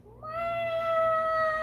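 A person loudly imitates a cat's meow: one drawn-out, rising then steady tonal call, close and alone.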